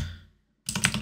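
Brief burst of computer keyboard typing entering a command, a quick cluster of close, crisp key clicks following a short silent gap.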